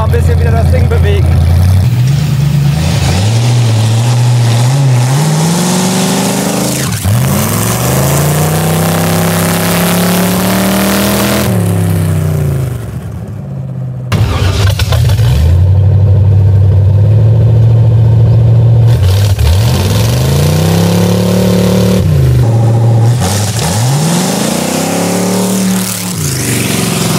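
A 1931 Ford Model A hot rod roadster pickup drives past loudly, its engine rising and falling through repeated revs and gear changes, with voices talking over the engine noise.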